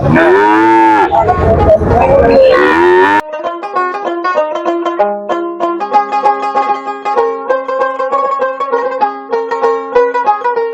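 A cow of an Indian breed moos loudly and at length at the traditional Bera cattle market in Pabna, a long, strong bellow close by followed by busy crowd noise.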